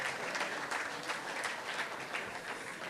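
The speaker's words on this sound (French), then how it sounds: "J'aimerais ça qu'on l'applaudisse, qu'il vienne nous voir." An audience applauds steadily at a Fête nationale launch conference in St-Lin-Laurentides, Quebec, a dense, even wash of clapping that sounds a little distant and stays fairly faint throughout.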